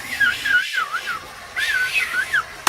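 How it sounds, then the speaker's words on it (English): A person whistles a wavering, looping melody in two short phrases separated by a brief pause, clear and close. "Perfect, yes, I whistled over the loop"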